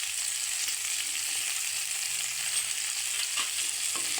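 A ground paste of mustard, cumin and onion frying in a pan, a steady close sizzle with a couple of faint stirring scrapes near the end, and no voices.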